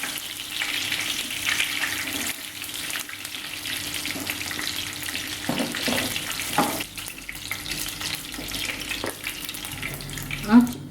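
Chicken frying in hot oil for chilli chicken: a continuous, moderately loud sizzle with occasional crackles and clatters, heard up close.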